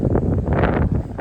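Strong gusts of wind buffet the microphone on a trail, a loud rumbling roar with no voices.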